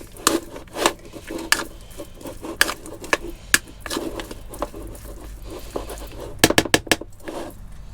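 A spoon scrapes and clatters in a bowl while grated cheese is mixed into aubergine stuffing, giving a run of irregular sharp clinks and taps up close, bunching into a quick cluster near the end.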